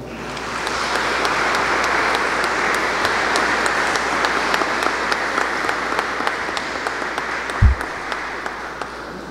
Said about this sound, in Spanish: brindámosle un fuerte aplauso